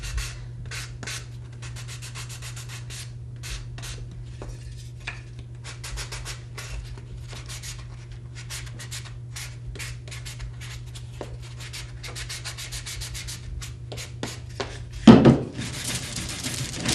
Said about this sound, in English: The sanding block you could use too.